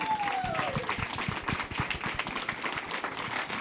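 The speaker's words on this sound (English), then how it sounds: "Big round of applause for all of you." Applause from a restaurant-event audience fills the space with dense, steady clapping, with a faint whistle-like tone early on and no clear speech.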